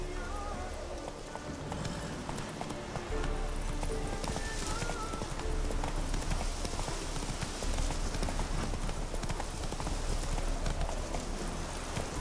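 Horse hooves clip-clop steadily at a trot in The Witcher 3, close and continuous over ambient game sound and background music, with no talk heard.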